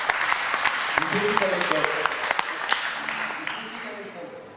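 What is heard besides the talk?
audience applauding a jazz band member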